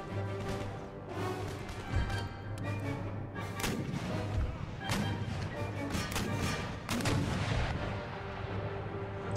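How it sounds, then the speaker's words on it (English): Artillery and volley guns firing in the video game Empire Total War, a dense stream of booming shots and cracking gunfire overlapping continuously at varied distances. "So these two guns are focusing on the artillery up on the hill."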